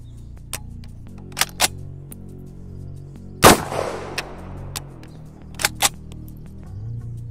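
A BRN-180 rifle chambered in 7.62x39 fires one loud, sharp shot at close range outdoors, its crack followed by a long decaying echo, amid a few smaller clicks and handling noises.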